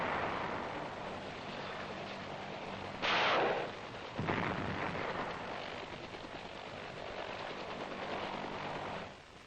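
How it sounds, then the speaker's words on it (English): Helicopters keep up continuous gunfire on Viet Cong positions during a Vietnam War operation protecting H-21 helicopters. A dense, rushing roar runs throughout, with a louder burst of firing partway through, heard from a distance. "The daisy chain technique is to maintain continuous fire on the Viet Cong so that he never has a chance to come out from cover and fire."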